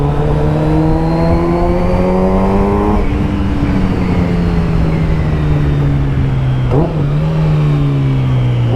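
A loud Kawasaki Z900RS inline-four motorcycle engine revs and holds a rough, buzzing tone, with the pitch easing down and briefly shifting before steadying again.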